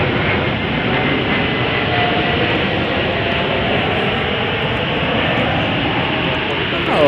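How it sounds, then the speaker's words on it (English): A United Boeing 787-10 Dreamliner at Chicago O'Hare, bound for Frankfurt, gives a loud, continuous close jet engine roar that holds steady throughout, with voices talking over it. "This is United Flight 907 off to Frankfurt, Germany on a 787-10 Dreamliner"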